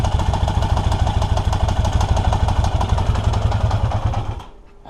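A 1982 Yamaha XJ650 motorcycle engine runs loud and close with a steady, rapid clattering idle, then abruptly cuts out, leaving near silence.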